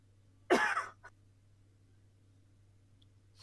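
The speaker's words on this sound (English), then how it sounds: "Now I'm gonna cough." A single sharp cough close to the mic, followed by a brief throat-clearing catch, then quiet.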